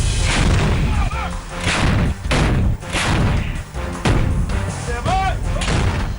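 Loud booming blasts of howitzer fire repeat through the clip, heavy thuds with rumbling tails, mixed with a dense, busy background.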